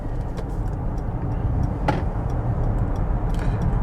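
Mercedes EQC 400 electric car driving in sport mode, a steady low road and motor rumble from inside the cabin with a few faint ticking clicks, no talking.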